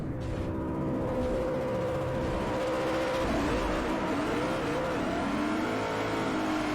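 A BMW drives in the racing game Forza Motorsport 4, its engine note revving and shifting steadily at moderate volume with no talking.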